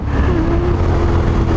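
A KTM 1290 Super Adventure S motorcycle accelerates hard on a coastal road, its engine a loud, steady roar with a rising whine, heard close and alone.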